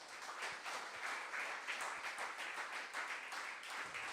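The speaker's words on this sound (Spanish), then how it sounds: "Denle una ofrenda de aplauso al Señor" A church congregation claps together in praise at a sermon, a faint, even wash of applause throughout with no voice over it.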